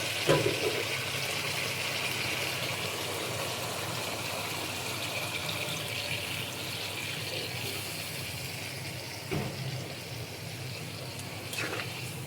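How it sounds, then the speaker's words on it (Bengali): Water poured into a pot of silver carp curry with ridge gourd and potato to make the broth, a steady liquid rush running alone for several seconds with a couple of small clanks. "এখন আমি ঝোলের জল দিয়ে দিব।"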